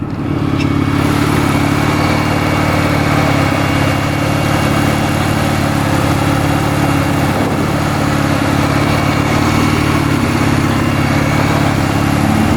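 A supercharged BMW M50 engine in a T18 Toyota Corolla runs on a dyno: a loud, steady, close engine roar that drones on without letting up.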